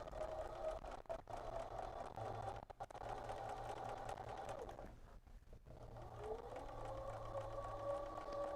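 Sewing machine slowly stitching quilt seams over thick layered fabric, a soft steady hum and whirr running close and quiet, easing and briefly pausing midway before resuming.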